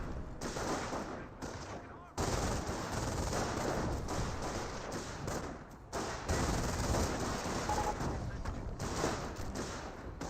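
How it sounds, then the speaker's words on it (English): Continuous battle din from a Company of Heroes match, with a machine gun bunker firing amid dense gunfire and explosions; loud and sustained, dipping briefly twice before resuming. "It is for machine gun bunker."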